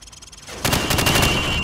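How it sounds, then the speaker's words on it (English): In Call of Duty 4, a rifle fires from the hip at targets in a rapid burst of loud, close shots that starts suddenly after a quiet moment and runs to the end. "shoot at the targets while firing from the hip"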